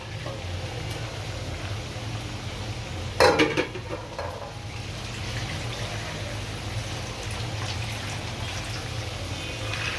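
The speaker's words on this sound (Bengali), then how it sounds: "এখানে বুটের ডাল দিচ্ছি।" Soaked chana dal, split chickpeas, tipped into a pot of frying meat: a brief clattering burst of grains and utensil over a continuous low sizzle and stirring.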